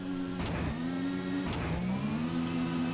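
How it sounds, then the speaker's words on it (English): A race car in the SEGA Touring Car Championship video game drones through its engine note, with two short thuds from the gearbox as it shifts, the pitch dipping and climbing again after each change. No one speaks. "Listen to that thud of the gearbox."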